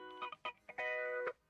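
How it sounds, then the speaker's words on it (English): An electric guitar picks short chords, then lets one ring and sustain, its tone gently swirling with a phaser sweep, fairly quiet. "Electric guitar 1 with a phaser effect."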